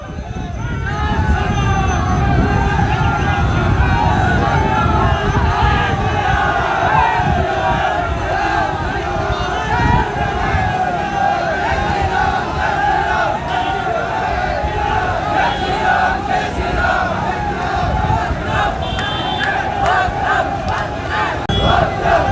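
A huge, dense crowd of thousands gathers outdoors in Shri Dungargarh, with loud, continuous shouting, chanting and babble across the whole stretch and occasional sharper cries rising above it.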